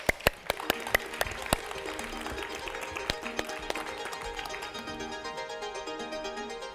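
Conference audience applauding a speaker at a tech event on cutting the global carbon footprint, a few loud claps at first settling into steady clapping that carries on throughout, with faint crowd murmur.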